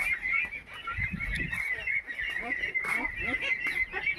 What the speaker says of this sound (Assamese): এইবিলাক হাঁহৰ পোৱালি, এইবিলাক হোৱাইট পিকিং হাঁহৰ পোৱালি।